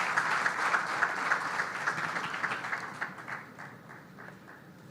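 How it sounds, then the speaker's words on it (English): A conference audience applauds after a speech at an Odisha special session of a global manufacturing summit, sustained clapping from many hands that thins and fades toward the end. "thank you, audience, for that enthralling applause that you just gave"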